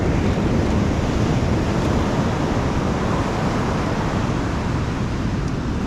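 Ocean surf rolls onto a beach, a dense continuous roar of breaking waves with wind rush, loud and close with no letup.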